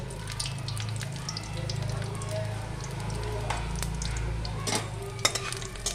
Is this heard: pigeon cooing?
no